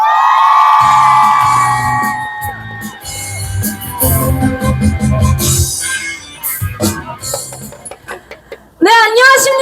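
A crowd at a nighttime candlelight rally for an impeachment in front of the National Assembly whoops and cheers loudly, with shouts and a swell of applause that rises, dips, then surges again near the end.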